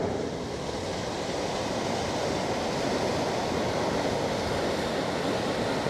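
Water rushing and churning at the bow of a passing ship on a canal, a steady broad roar of surf-like wash, loud and continuous with no voices.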